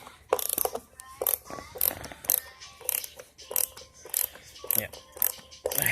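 Large speaker screws being tightened with a ratchet, giving a close, rapid series of clicking bursts in an uneven rhythm, with a brief voice heard once.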